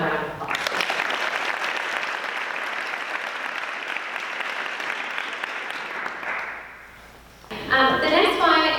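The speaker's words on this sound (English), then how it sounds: "So let's give them another round of applause." A school district audience applauds teachers and staff at a student address event. Loud, dense clapping from a large crowd runs for about seven seconds, fades, and then a speaker's voice begins.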